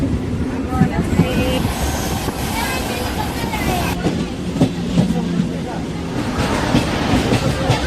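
A passenger train travels from Jolarpettai toward Bangalore, with a steady loud rumble and rattle of the carriages and rhythmic wheel clatter throughout.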